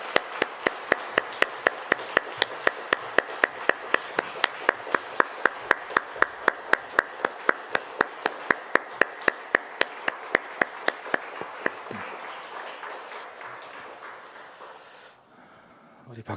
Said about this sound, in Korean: 우리 다시 한번 크게 격려의 박수하겠습니다